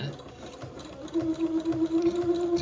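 A sewing machine runs at moderate speed along a long straight seam on a dress, with a steady motor hum and needle chatter that picks up and grows louder partway through.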